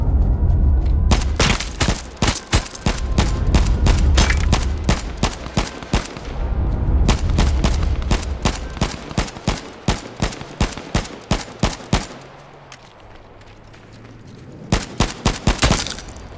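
Gunfire in the battle royale game H1Z1: loud, rapid bursts of sharp shots in fast rhythmic strings, pausing briefly before a final volley, with a low engine-like drone underneath partway through.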